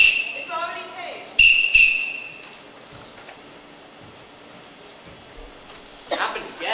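A whistle blown during a stage play, a few sharp high shrill blasts near the start amid clattering stage footsteps and hollow knocks, followed by quieter room sound and talk.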